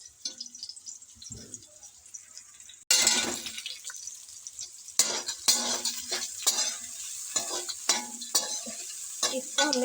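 Onions hit hot oil in a kadai with a sudden loud sizzle that keeps crackling steadily, broken by repeated scraping strokes of a spoon stirring them around the pan.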